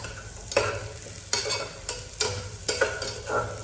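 Fennel seeds and green chillies sauté in a pan with a soft, steady sizzle, broken by a handful of scraping stirs at irregular intervals, with no talking.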